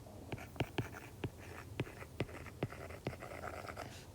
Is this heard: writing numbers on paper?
yes